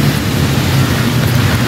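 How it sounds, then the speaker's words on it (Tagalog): Steady rain falls outdoors, a loud continuous hiss of water with a low rumble underneath, dense and unbroken throughout with no voices. "At syempre, umuulan pa rin."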